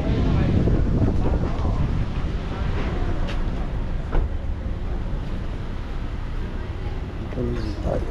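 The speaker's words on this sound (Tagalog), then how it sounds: "Buti na lang may hangin na" Wind rushes and buffets across the microphone in a constant roar near a hanging bridge at Taal Volcano, Tagaytay, with faint rustling beneath.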